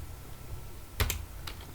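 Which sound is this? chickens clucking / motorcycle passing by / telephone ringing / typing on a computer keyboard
typing on a computer keyboard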